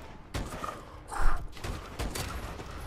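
Gunfire in the video game Call of Duty: Advanced Warfare, several sharp shots and impacts spaced across a few seconds, one louder burst midway, over faint game ambience.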